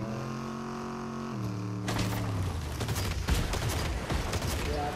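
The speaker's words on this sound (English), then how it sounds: "Pull up so I can blast a couple rounds down the hole" Bursts of rapid gunfire and booming blasts in a Fortnite match start after a sustained tonal hum, then keep going loud and dense to the end.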